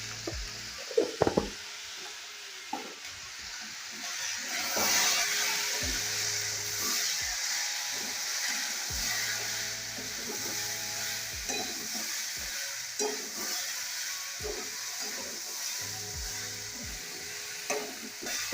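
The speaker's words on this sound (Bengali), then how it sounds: "এগুলো খুব ভালোভাবে ভাজা হয়ে গেছে" Mixed vegetables with spices and ground coriander fry in a pan, giving a steady close sizzle broken by frequent scraping and knocking stirs of a spatula.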